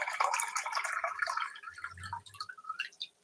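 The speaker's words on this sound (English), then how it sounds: "Now I'm just gonna add some water." Water is poured into a pot of red lentils for dal, a steady close splashing and trickling pour that tapers off near the end.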